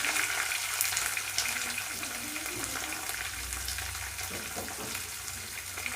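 Onion pieces with curry leaves frying in hot oil in a pan for a brinjal and chana dal curry, giving a steady, fairly close sizzle and hiss that runs through the whole stretch without pause.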